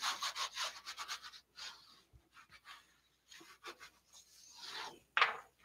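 Wallpaper being burnished onto a paper craft book cover by hand, heard as soft, close rubbing strokes in irregular bursts with short quiet gaps between them.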